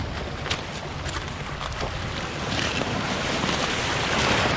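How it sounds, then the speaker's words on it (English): Ocean waves roll in on the shore in a cold Antarctic setting, a loud, continuous wash of surf mixed with wind buffeting the microphone, building slightly toward the end. "Oh, here comes a big wave."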